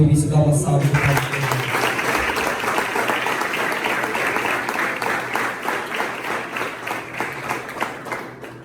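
Sustained applause from a church youth-mission congregation, steady and dense after an opening second of talk, with voices and cheers mixed in throughout.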